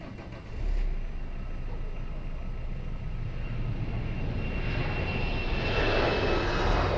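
A TAP Air Portugal airliner takes off from runway 02 at Lisbon Airport, its jet engines a loud, steady broadband roar that swells in at the start and holds strong throughout, with no voices.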